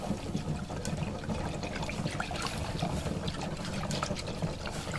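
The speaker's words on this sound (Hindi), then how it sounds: "अब इसमें जो दूध मिक्स किया था वो थोड़ा थोड़ा करके इसमें शामिल कर देंगे और इसको मिक्स करते जाएंगे" Milk trickles gradually into a pan of fried flour while being stirred into a sauce, a soft, continuous liquid pouring and gentle mixing sound, fairly quiet and close.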